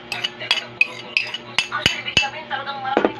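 Salad tossed with metal utensils in a bowl, giving a series of sharp clinks and scrapes at an uneven rhythm, close and clear with no talking.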